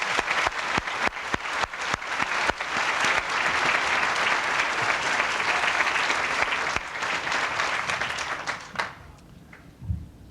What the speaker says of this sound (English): have a big round of applause for everyone up here who has done such a tremendous job this afternoon